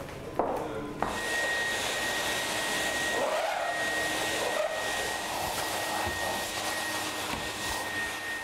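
A vacuum cleaner runs steadily at moderate distance, a continuous whining drone with a thin high tone, broken by a couple of sharp knocks at the start and slight dips as it moves.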